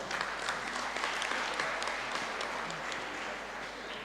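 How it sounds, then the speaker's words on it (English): At an international conference on Islamic economics and business, the audience gives sustained applause, a dense, even clatter of many hands at moderate level over a low hum, slowly tapering near the end. "please give applause to Professor Fuadah."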